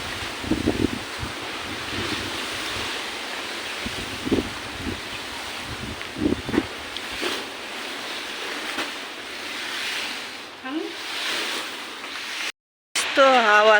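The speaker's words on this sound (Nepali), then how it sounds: "हेर्नु त कस्तो हावा चलेको" Strong wind blowing outdoors during rain, gusting into the microphone as a loud, rough rush that swells and fades with rustling, with brief voices over it.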